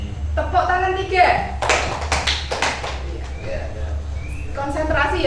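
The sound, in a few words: children clapping hands three times on teacher's cue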